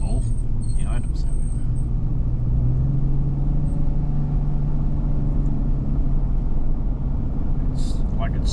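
A car with a faulty drivetrain, apparently stuck in second gear after a ring and pinion and limited slip upgrade, drives with a steady low engine drone and rumble throughout, someone talking over it.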